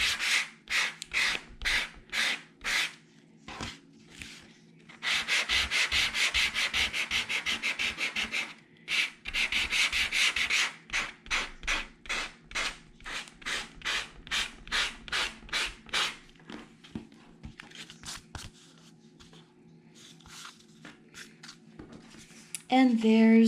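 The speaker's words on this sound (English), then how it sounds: "Maybe I'll add a little bit more distressing." Edges of an autumn paper card being distressed by hand, heard as a steady run of short, close scraping rubs with two longer sustained scuffing stretches partway through.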